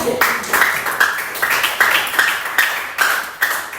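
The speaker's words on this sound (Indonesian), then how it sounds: "Tepuk tangan untuk kita semua." Rhythmic clapping from a small classroom group, quick regular bursts of hand claps close by, with no talking.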